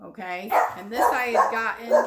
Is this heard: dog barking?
yes